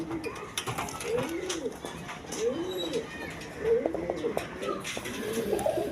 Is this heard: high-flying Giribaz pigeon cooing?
yes